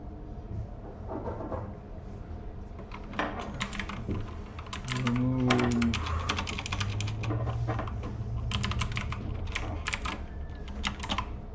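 Code being typed on a computer keyboard, bursts of quick clicking keystrokes with short pauses over a low background hum, close and clear.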